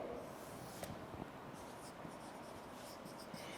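Chalk or marker scratching across a board as a teacher writes a word during an English lecture, a faint, steady scrape of short strokes with no talking.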